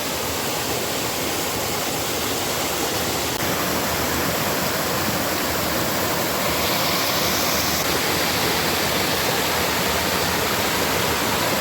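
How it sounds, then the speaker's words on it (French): A small second waterfall at a spring source on a hiking trail, giving a loud, steady, broadband rushing of falling water close by, unbroken from start to finish with no talking. "on a une deuxième petite cascade que tout le monde oublie de voir."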